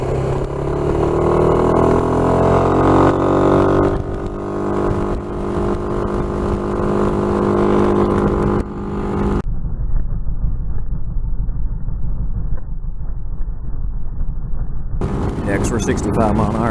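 A Suzuki Burgman 400 scooter with 16 g Dr. Pulley sliders, ridden two-up at 60 to 70 mph, gives a loud, steady engine drone with heavy wind roar. The tone shifts partway through and stays continuous throughout.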